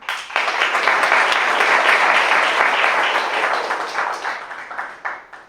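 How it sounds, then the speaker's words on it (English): An audience at a graduation ceremony breaks into loud, dense applause that starts abruptly, holds steady for several seconds, then thins out and tapers at the end. "I would like to take a moment to applaud all the Solomon Fellows for completing this program."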